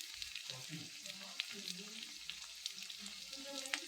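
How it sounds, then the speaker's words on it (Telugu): Bottle gourd pulao ingredients fry over a high gas flame, producing a quiet, even sizzling hiss with scattered faint crackles, steady throughout and heard from close by. "గ్యాస్ పెద్దగా చేసుకొని ఫ్రై చేసుకుందాం"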